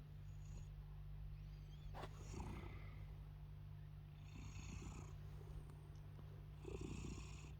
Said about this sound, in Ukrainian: Лежить муркоче мені тут